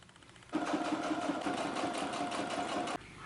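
Sewing machine stitching a waistband onto a skirt, a close, steady mechanical whir for about two and a half seconds that starts and stops abruptly.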